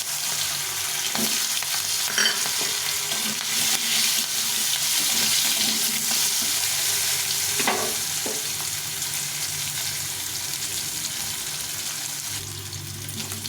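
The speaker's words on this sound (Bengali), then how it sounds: "কিছুটা আলু কেটে নিয়েছি চার কোনা করে আলুটাকে ভেজে নিয়েছি" Diced potatoes fry in a pan with cumin and green chilli, a steady close sizzle running throughout with occasional scrapes and clinks of stirring, no voices.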